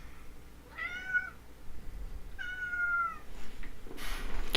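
A cat meows twice, two clear, drawn-out calls a second or so apart, close by against a quiet room background.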